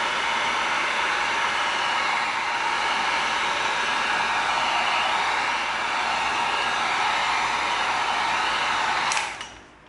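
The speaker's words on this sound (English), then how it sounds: "we're going to bring in our heat gun, and we're going to seal it" A heat gun is used to seal an EVA foam shield, giving a steady, loud blowing roar up close that holds unbroken for several seconds before switching off and fading quickly at the end.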